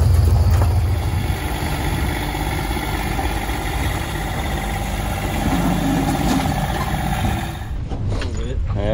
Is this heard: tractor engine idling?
yes